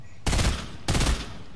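Two short rapid bursts of automatic gunfire from a Fortnite match, loud and close, separated by a brief pause.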